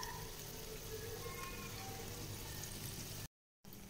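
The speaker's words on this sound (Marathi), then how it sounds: "गॅस मंदच ठेवून हे वडे छान असे भाजून घ्यायचे आहेत" Dahi vada fritters frying in oil over a low gas flame, giving a steady, even sizzle with soft bubbling throughout and a brief dropout near the end.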